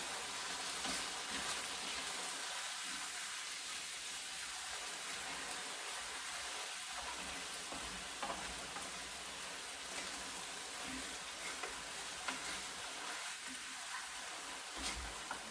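Garlic minced pork and tofu in sauce cooking in a pan, a faint, steady sizzle and bubbling that continues evenly throughout with no talking.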